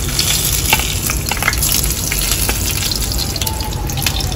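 Whole red chillies sizzling loudly in hot oil for a tempering (bhagar) over potato bharta, a dense, continuous close-up crackle and hiss with scattered pops.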